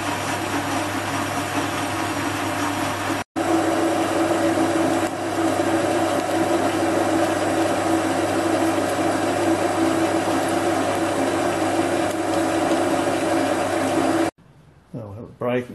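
A small lathe cuts metal with a homemade fly cutter holding carbide tooling, a loud steady grinding whir with a rhythmic chatter that drops out briefly once, then stops abruptly near the end, leaving faint handling noises.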